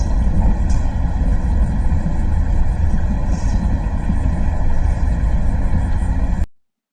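A pump jack runs with a steady, droning mechanical hum and even harmonic tones that hold unchanged for several seconds and then cut off abruptly, with no talk.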